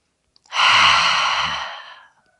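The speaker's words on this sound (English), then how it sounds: "Take an inhale and an exhale out the mouth." A single long exhale out the mouth during yoga breathing, a loud, close, breathy sigh that swells quickly and fades over about a second and a half, with no talk.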